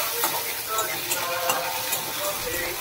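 Onions and tomatoes fry in a pan with a loud, close, crackling sizzle, punctuated by repeated scraping strokes of a spoon stirring through the mixture.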